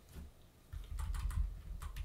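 Quick, light keystrokes clatter on a computer keyboard as a command is typed, close up and steady over a soft room hum.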